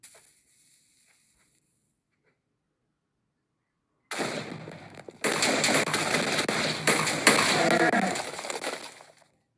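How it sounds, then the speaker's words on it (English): Near-silence, then a sudden loud burst at about four seconds that swells into a dense, roaring Minecraft trap explosion with crackling debris, fading out near the end. "Pretty big explosion, right?"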